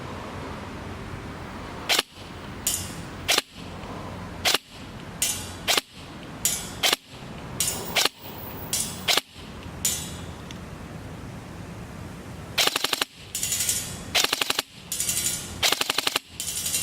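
Airsoft gun with a DTW modified T-HOP and HS+ barrel shooting 0.32 g BBs outdoors, sharp close snapping shots, single and spaced at first, then quicker clustered bursts near the end.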